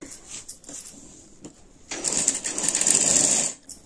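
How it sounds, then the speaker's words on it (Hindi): A sewing machine stitches a blouse sleeve: a few faint short starts, then a louder steady whirring run of stitching lasting over a second before stopping, with no talk. "तो अब मैं आपको इसकी सिलाई लगा के बता देती हूँ"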